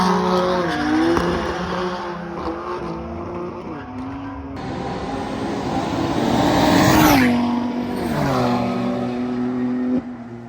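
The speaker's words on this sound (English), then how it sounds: "BMW is struggling for traction." A BMW drag racing car fights for traction at a drag strip, its engine revving hard in rising and falling pitches while the tires spin and squeal, loud and close, with a second car's engine roaring alongside and no talk.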